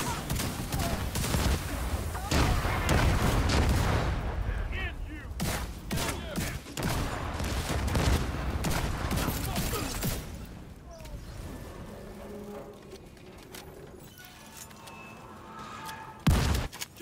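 In The Division 2 raid Operation Iron Horse, a heavy mounted gun fires loud, sustained bursts of rapid shots, which thin out into scattered sharper reports. A final loud blast comes near the end.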